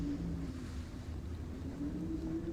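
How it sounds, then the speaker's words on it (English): Strong wind beating against window glass, a steady low roaring rumble with slight swells in force, continuous and close with no voices. "That is some powerful wind. It's like beating against this glass right here."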